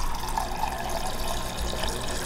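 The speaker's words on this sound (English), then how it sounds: "I get cold water." Cold water runs steadily from a kitchen tap, a continuous close splashing stream with no talk over it.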